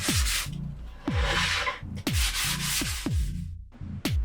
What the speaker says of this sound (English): when I'm sanding the varnish, I actually wet sand. I use 400 grit, a little spritz of water, and I just sand back and forth very lightly